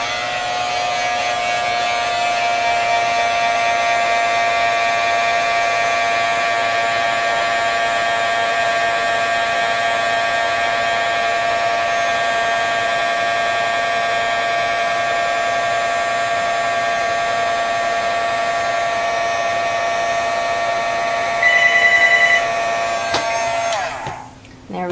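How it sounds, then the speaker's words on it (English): Heat gun blowing hot air for heat embossing a handmade sympathy card, a loud steady whirring hum held without a break, stopping abruptly near the end. "Now we'll just heat emboss that."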